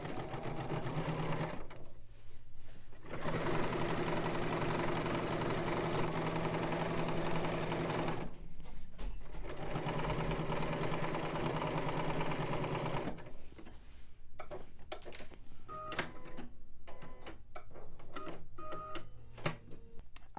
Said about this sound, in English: Let's head over to the machine and stitch this down at 5/8 of an inch seam allowance.